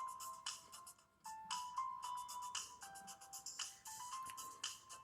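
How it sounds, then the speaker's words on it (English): Samsung Galaxy S2 ringtone from Android 4.0.3 playing a chirpy electronic tune of repeating bell-like notes and short bursts, fairly soft and heard alone with no talking. "I knew someone with this ringtone."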